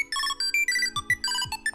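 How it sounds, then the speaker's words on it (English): A bright electronic ringtone plays a quick, chirpy melody of short repeated tones, close and clear, with no talking. "Oh, I can change the ringtone."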